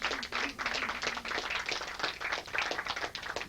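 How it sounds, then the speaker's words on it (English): Studio audience at a 1992 polka game show applauding the announcer and hostess, a steady dense clapping that stays at even strength for a few seconds. "Let's give them a nice round of applause"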